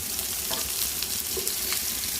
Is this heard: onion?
yes